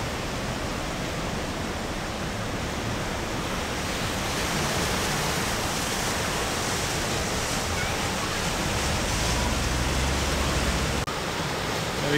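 Floodwater raging through Gatlinburg near the Great Smoky Mountains as a tropical storm passes, a loud steady rushing roar that swells slightly and holds throughout.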